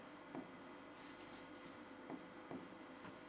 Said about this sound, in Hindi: तो डायरेक्ट लिखता हूँ मैं यहाँ पे